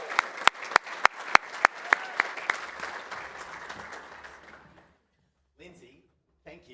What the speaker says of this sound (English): Let's give Costa a big round of applause.